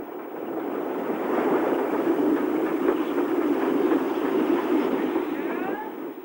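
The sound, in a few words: train coasting downhill on the Somerset & Dorset railway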